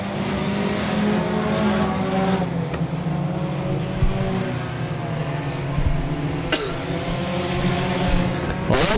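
Hornet class race cars circle Brownstown Speedway, engines droning and whining in overlapping layers as they pass, loud and continuous with a few sharp clicks and bumps, while a commentator talks over the racing.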